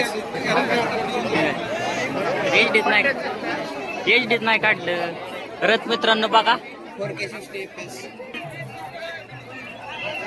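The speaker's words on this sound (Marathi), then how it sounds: "किती गर्दी तिथं पाया पडायला" A dense crowd of devotees at the Dnyaneshwar Maharaj palkhi procession in Phaltan, a steady babble of many voices close by, with someone talking loudly over it.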